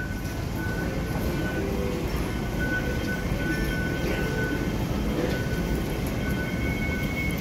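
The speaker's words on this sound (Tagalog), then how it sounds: "Ito po yung MTR." An MTR train in Hong Kong, a loud continuous rumble and rush of rail noise filling the whole stretch with a steady high whine riding on top.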